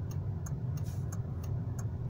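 The indicator of a 2001 VW New Beetle ticks steadily about three times a second, close and clear over a low engine hum inside the car.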